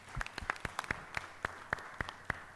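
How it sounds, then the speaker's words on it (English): Clapping from the audience at a big data panel discussion comes as distinct, separate claps in a loose, fairly quick rhythm, suggesting only a few pairs of hands rather than a full crowd. "I think they deserve a round of applause."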